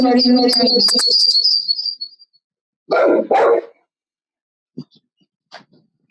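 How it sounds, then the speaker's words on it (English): A pet dog barks in a household during an online call, a loud close pair of barks followed by a few fainter yips, after a sustained high-pitched whine or whistle at the start. "It's our dog. We really can't help that."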